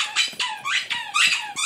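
A dog squeezes a squeaky toy, producing about five loud, rapid, high-pitched squeaks in quick succession with brief gaps, close to the listener and with no talking.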